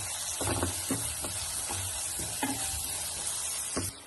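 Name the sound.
coriander and spice powders being stir-fried in a pan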